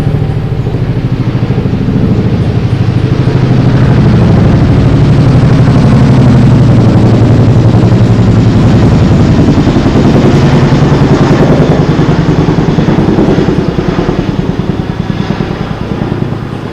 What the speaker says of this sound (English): Here comes another helicopter right over,